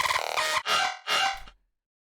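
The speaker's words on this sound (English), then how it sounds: "So I wanted to make a really weird version of the original simple bass," A strongly modified synth bass with a randomized LFO, loud and harmonically dense, played as three short choppy bursts with uneven wobbling tone before cutting to silence.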